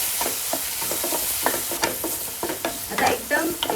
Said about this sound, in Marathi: आता हो अख्खो टॅमॅटो तो पण परततोय.